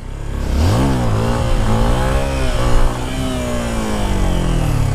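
A Honda XRE motorcycle engine revs up sharply during wheelie practice, climbing in pitch, holding a strained roar, then easing off into a steadier drone, close and loud with no talking.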